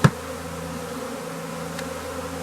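Honeybees swarming around a hive after bad weather, a low steady buzzing drone close by, with one brief knock at the start and no voices.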